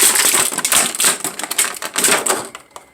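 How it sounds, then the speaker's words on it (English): A Marvel Legends Morbius action figure torn free of its plastic blister packaging, a rapid run of crinkling, crackling plastic snaps and rustles, close and loud, fading out near the end. "Break him out of his plastic coffin."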